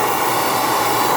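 An Xpower Airrow Pro electric computer duster blows a steady, loud rush of air while cleaning a dusty PC, a continuous whooshing hiss with a motor whine that holds constant throughout.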